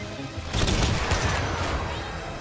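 Iron Man's rockets fire in the Iron Man VR game on PlayStation VR, a burst of rapid launches and blasts that swells for about a second, then fades into a rumbling tail.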